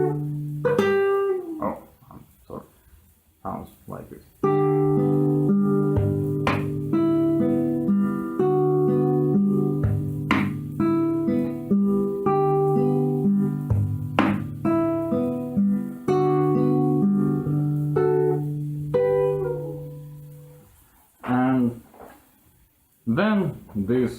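Guitar riff from Vivaldi's Summer in a rock arrangement, fast repeating picked notes over shifting bass notes, loud and close, with a short spoken bit at the start and more talk after the playing stops.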